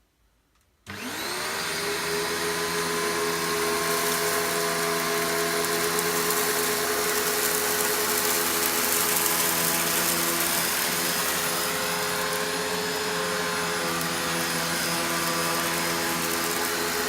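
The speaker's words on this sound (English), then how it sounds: "we'll vacuum it up and see what it does" A Panasonic MC-E44 700W vacuum cleaner switches on after a brief silence and runs loud and steady, a continuous whine and roar as it sucks up porridge oats and sawdust, with no one speaking.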